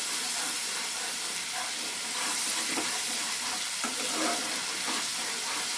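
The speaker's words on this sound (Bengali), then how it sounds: "পেঁয়াজটা একটু রং ধরা অবধি পেঁয়াজটাকে ভালো করে নাড়তে হবে।" Onions frying in a pan and being stirred well until they take on color: a continuous loud sizzle with soft repeated scrapes of the spoon throughout, no voices.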